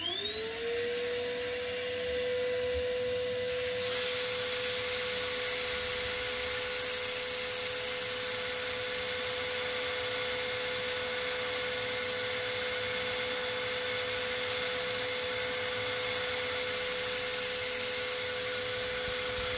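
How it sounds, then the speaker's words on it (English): A power sanding pad works an ash wood bowl, giving a loud, steady whine and broad rushing hiss that runs unbroken throughout, with a higher tone joining after a few seconds. "Loving this new sanding pad, so much easier than hand sanding."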